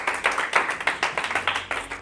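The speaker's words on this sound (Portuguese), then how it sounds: "Se coloque de pé, bate palmas para Jesus." A standing church congregation claps in unison during a Portuguese-language worship service, an even, rhythmic beat of about four claps per second, close and steady, with no talk.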